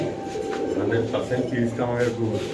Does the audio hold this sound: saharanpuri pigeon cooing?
yes